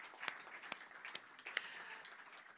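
Audience applause closing a panel discussion at a conference on multilateralism in the Indo-Pacific, a steady wash of clapping with a few sharper individual claps standing out, fairly faint and distant in a large hall.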